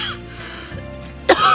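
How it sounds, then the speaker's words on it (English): A single sharp cough from a person near the end of a short, fairly quiet stretch, heard close up with no talking over it. "I didn't want to like cough when you're talking"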